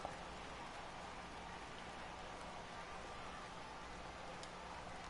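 Steady, dense rain pours down during a baseball game in a video game, a constant hiss of falling drops with no letup and no talk over it.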